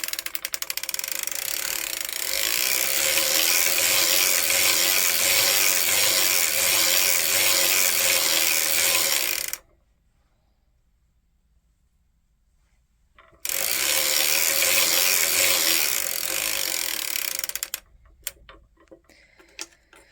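A circular sock knitting machine is hand-cranked in a steady, close, continuous ratcheting tick for about ten seconds, stops briefly, then runs again before trailing off into a few scattered clicks.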